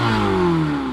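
A Chevrolet Corvette ZR1's forced-induction engine revs hard, a loud, close rising and falling exhaust note held for under a second before cutting off sharply.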